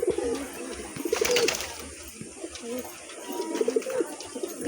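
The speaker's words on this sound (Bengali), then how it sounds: "এই দেখুন পায়রা" Pigeons coo in soft, repeated rounded calls at close range, with several coos spread across the stretch over light background noise and no talking.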